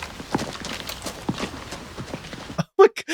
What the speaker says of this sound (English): Random horse neighing in the background.